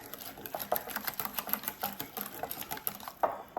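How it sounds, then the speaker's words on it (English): A cinnamon-spiced dessert mixture whisked briskly in a bowl, giving a fast, even run of light clicking strokes that stays fairly quiet and close, with no speech. "I'm going to give this one more big whisk."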